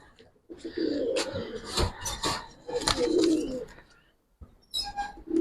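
Old-breed Giribaz pigeons coo in low, repeated bursts, close by, with short gaps between phrases and a few higher chirps near the end.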